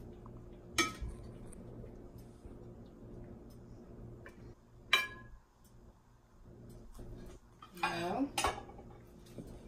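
Cooked Persian tachin rice with its crisp tahdig crust is turned out onto a plate, bringing a few sharp clinks of metal pot and utensils against dishes spread through quiet kitchen sounds, with a busier cluster of clatter near the end.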